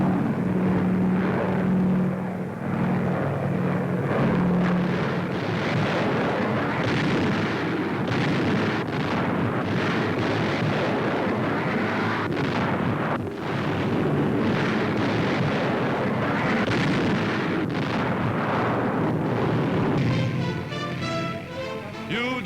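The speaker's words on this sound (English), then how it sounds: "Allied planes continue to blast the enemy from the air." Allied warplanes in flight bombing enemy supply lines along Italian roads, a dense continuous rumble of aircraft engines mixed with repeated blasts and booming explosions, loud and unbroken throughout.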